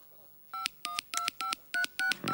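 A telephone number dialed on a keypad to call a mobile phone, seven crisp touch-tone beeps in quick, even succession, close and clear against near silence.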